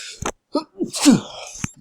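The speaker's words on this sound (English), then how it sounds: "I'm about to sneeze." A single person sneezes indoors, with a short sharp inhale and burst amid brief throat sounds and breathy noises, close and fairly loud.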